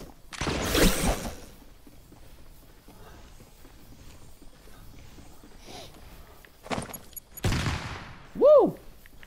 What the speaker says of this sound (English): Are you trying to shoot me, Nick?